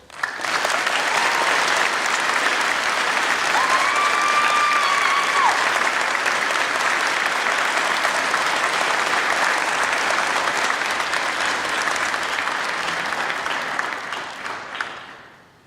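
Sustained audience applause for award nominees at a college academic awards ceremony, a broad, even wash of many hands clapping, loud and continuous, fading out at the end with faint crowd voices.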